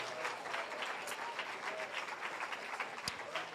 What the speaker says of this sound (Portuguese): um novo e vibrante e demorado aplauso ao Cristo